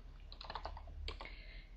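Computer keyboard typing commands into the text-based online game Aardwolf MUD: quick bursts of light key clicks, then a short pause and a few more taps, close and quiet, with no speech.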